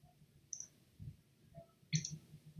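A few sharp mouse clicks on an edit button while working in online evaluation-creation software, sparse and close, with faint background hum and no talking.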